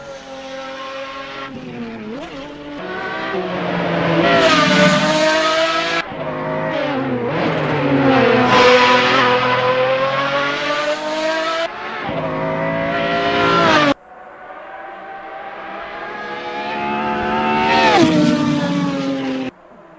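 A Pagani Zonda R racing car's engine in Assetto Corsa screams through repeated high revving pulls with sharp gear changes and brief lifts, loud and continuous, with no talk over it.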